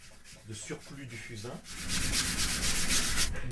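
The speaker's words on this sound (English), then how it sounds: "So I use a brush to remove excess charcoal." A brush sweeps excess charcoal off a canvas prepared for an oil painting, with soft, scratchy rubbing strokes that turn into a louder, steady rasping scrub in the second half.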